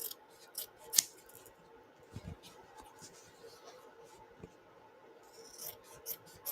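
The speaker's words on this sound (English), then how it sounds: "these are my scissors just for cutting stabilizer" Gold-tipped scissors snip through embroidery stabilizer in a few sparse, crisp cuts, with soft rubbing and handling noises in between, close and quiet.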